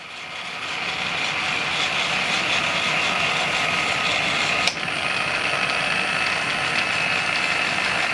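A RoboTwist electric jar opener running steadily as it grips and turns a jar lid to loosen it, a constant motor whir and mechanical drone close by, with a single sharp click partway through.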